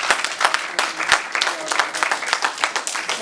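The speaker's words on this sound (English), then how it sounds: "please give him a round of applause" An audience at a live Brothers To Greatness Tour show gives a round of applause, a close, lively wash of many hands with distinct sharp claps popping out, steady throughout with no talking.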